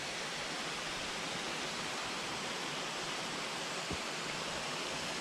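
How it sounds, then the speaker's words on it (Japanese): A river rushes past a campsite on a Shikoku motorbike camping trip, a steady broadband roar of flowing water, close and continuous with no voices over it. "川の音しか聞こえない。"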